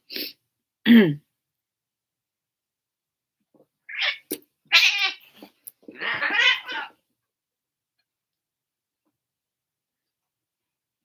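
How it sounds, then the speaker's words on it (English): Two house cats fighting indoors, letting out short sharp yowls and hisses in several separate bursts with silent gaps between them. "my cats are fighting"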